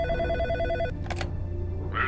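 A telephone bell rings loudly in the horror game In Sound Mind, repeating in bursts for about a second before cutting off, over a steady low game ambience with a brief noisy burst after.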